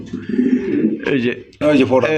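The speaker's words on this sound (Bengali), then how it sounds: "এটা হচ্ছে ইন্ডিয়ান নাজরানা কালদম কবুতর" Indian Nazrana Kaldam pigeons on a farm give low, throaty coos in short close bursts, with someone speaking between and over them.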